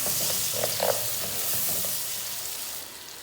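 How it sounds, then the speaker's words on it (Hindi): Three chopped tomatoes dropped into frying garlic masala for a turnip sabzi, setting off a loud, close, continuous sizzle with a few soft stirring knocks early on. "और इसी में मैं अभी डाल रही हूँ टमाटर।"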